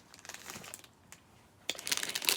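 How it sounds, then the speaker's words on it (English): Close, crisp crinkling of a thin Dollar Tree plastic bag being handled, coming in short rustling bursts with a pause in the middle and a louder flurry at the end. "This is a plastic bag from the Dollar Tree."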